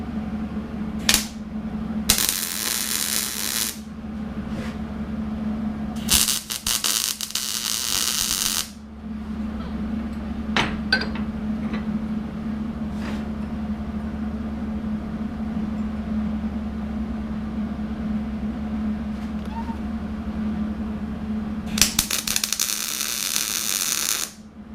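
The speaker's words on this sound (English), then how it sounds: "We'll go ahead and weld these on." Metal plates for a DIY folding box anchor are tack welded in several short, loud crackling bursts separated by pauses, over a steady electrical hum from the welder.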